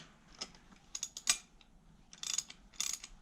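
Ratchet wrench working a 13 mm bolt on the idler pulley of a MK6 Golf R engine, heard as short bursts of quick clicking, several separate runs with pauses between, fairly close and quiet, no talk.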